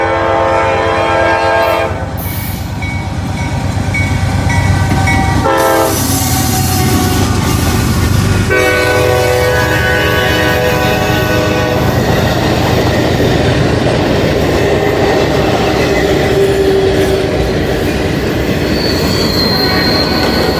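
A freight train rolls past at close range on a line through LaGrange, Kentucky, with a loud, continuous rumble of cars, squealing wheels and clattering rail joints, and horn-like tonal blasts early on, sustained for the full span without voices.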